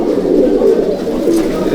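Malwai pigeons at a champion breeding loft coo in a loud, close, continuous throaty rumble, blending into one sustained murmur.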